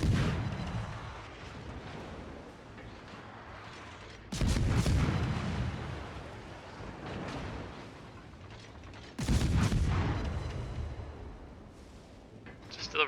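Naval guns fire from a warship in World of Warships, with two heavy booming salvos standing out above a steady rumbling engine and mechanical background, each blast loud and followed by a rolling decay.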